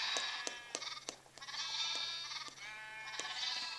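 Sheep in the video game Minecraft bleat repeatedly, several wavering cries overlapping from a group of adult and baby sheep, fairly close, punctuated by sharp clicking hits.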